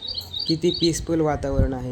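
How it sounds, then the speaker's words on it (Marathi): Morning birds chirp and tweet in quick high bursts around an old Yadava-era temple, fairly faint behind someone speaking close up. "सकाळी सकाळी तुम्ही पक्ष्यांच्या चिवचिवाट ऐकू शकता."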